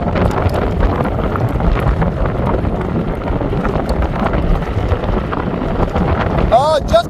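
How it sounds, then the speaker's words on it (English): Heavy, continuous wind buffeting the microphone while riding a Victrip R5S folding full-suspension e-bike over gravel, a loud broadband rumble filling the whole stretch, with a brief whistle-like tone near the end. "it's pretty windy out here"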